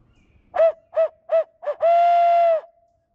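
An imitation owl hoot used as a turkey-locator call on a quiet spring morning in the woods: four short, loud hoots in quick succession, then one long drawn-out hoot, clear and close with nothing else around.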